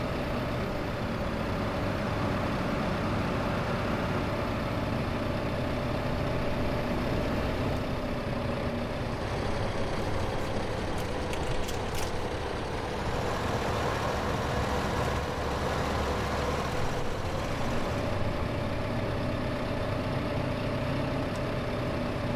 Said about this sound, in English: And with this small tractor and trailer, I may even be able to reverse into the bays in here